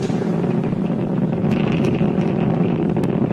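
Steady, loud, broad roar of SpaceX Merlin 1D first-stage rocket engines during launch, with a deep rumbling base and occasional crackle, continuous throughout, like a distant rocket engine heard through wind.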